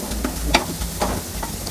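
Carrot, tomato and coriander cooking in a pan, with a quiet close sizzle broken by several soft spatula scrapes and stirs in an uneven rhythm; no voices.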